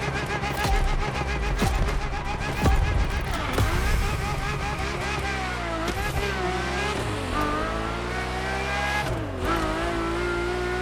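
A Ferrari F50 race car in a video game drives continuously with a loud engine that shifts pitch through gear changes, with brief tire squeals and passing whooshes, filling the whole stretch without letup.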